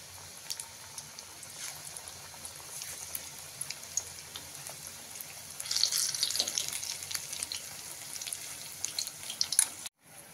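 Hadga flower fritters frying in hot oil, a steady soft sizzle and crackle that swells louder for a few seconds midway, with faint kitchen clatter and no talking.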